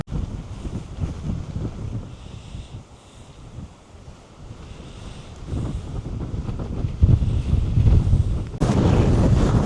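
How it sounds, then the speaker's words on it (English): Strong wind gusts across a hilltop monastery on Ithaca, Greece, buffeting the microphone with uneven low rumbles that swell and fade, then grow louder and rougher toward the end. "You can see how bloody windy it is up here"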